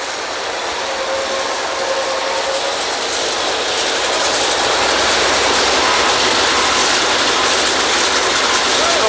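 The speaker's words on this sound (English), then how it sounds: "Here's the back side of the draw works." Draw works running on a historical Kelly drilling rig, a loud steady mechanical roar with rattling, clattering machinery that builds slightly in intensity, with a voice speaking over it.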